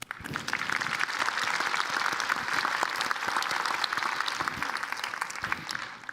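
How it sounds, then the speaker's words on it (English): Sustained audience applause at a luncheon, a dense even wash of many hands clapping that holds steady for several seconds before tapering slightly at the end. "So give them a round of applause."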